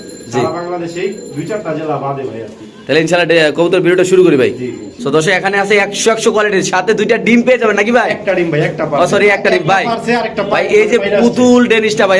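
Pigeons at a pigeon shop: repeated low cooing calls, loud and close, continuing through the whole stretch, with people talking over them.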